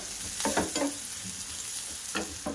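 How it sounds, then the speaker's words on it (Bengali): Chopped onion frying in a pan gives a close, constant sizzle, with a few clattering stirs near the start and again near the end, no voices present. "পেঁয়াজটা একটু লাল লাল করে ভাজা করে নিয়েছি।"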